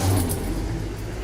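A 1967 Ford F-100 service truck engine, a loud, close, continuous low rumble with a rough idle and no separate cranking burst.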